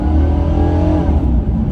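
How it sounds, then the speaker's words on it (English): A 1996 Chevy Impala SS V8 accelerates at full throttle from inside the car, a loud, deep, continuous engine roar with a strong low rumble, and no voices. "I'm gonna floor it here, see how it accelerates."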